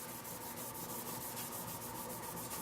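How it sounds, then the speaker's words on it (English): Scotch-Brite pad scrubbing a metal Heatkiller backplate to remove swirl marks, a steady close rubbing hiss with quick repeated strokes, continuous for a few seconds with no talking. "Scotch Brite pads, I think in this case, will work just fine. And it is taking those swirl marks right out of it. So give it a good scrub,"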